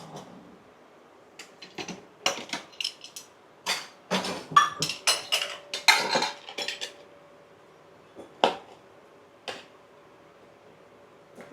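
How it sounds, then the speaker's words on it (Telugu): Lemons being cut and squeezed for juice in a home kitchen, heard as a string of sharp clicks and knocks in quick bursts, close and moderately loud with a faint steady hum underneath. "ఇదంతా బాగా వేగే తలికే మనం నిమ్మకాయలు కట్ చేసి రసం పిండుకుందాం."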